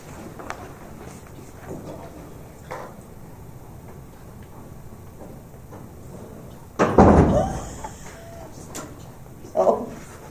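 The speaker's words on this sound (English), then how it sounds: "do you want to close that door?" A door in a school board meeting room swings shut with one loud, close thud, followed a couple of seconds later by a softer knock, amid quiet room noise and faint ticking.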